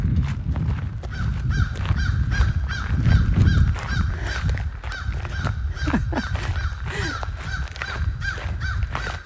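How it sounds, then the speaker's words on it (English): Crows caw from the treetops along a mountain trail in Raleigh County, West Virginia, with several harsh calls scattered over a steady outdoor background and a faint continuous whine. "Some crows up there congratulating us for making it to the end of this trail up the mountain."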